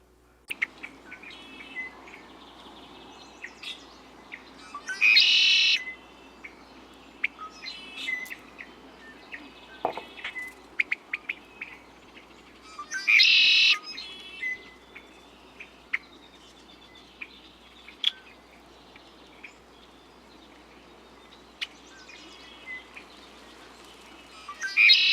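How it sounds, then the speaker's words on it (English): Red-winged blackbird song rings out in short, buzzy bursts repeated a few times, standing out over a quiet background with scattered chirps and insect noise. "So red-winged blackbird"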